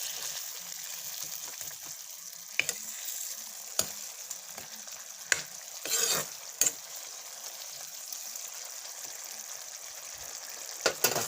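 Potatoes and tomatoes frying in oil in a pan, a steady soft sizzle running throughout with occasional sharp clicks and a brief louder burst of spattering midway, no talking.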